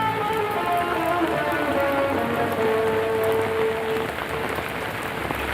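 Steady rain pours onto surfaces as a dense, even hiss that runs throughout, with faint tonal sounds drifting in the background.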